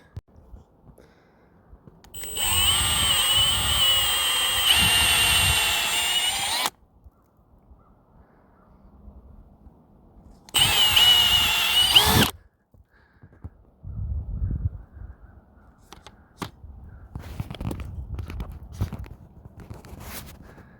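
A power drill whines loudly for about four seconds, stops, then bores again in a shorter burst, drilling a tap hole in a maple tree, with faint footsteps and handling noises between.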